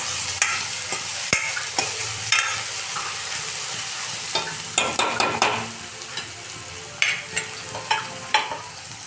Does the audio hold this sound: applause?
no